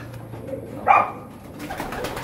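A single soft coo from a pigeon at a pigeon club rises briefly over quiet background rustle, close by.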